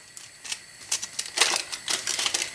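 A knife cuts a bar of chocolate into pieces for vegan hot chocolate, giving a quiet run of crisp, irregular snaps and crunches close by, with no talking.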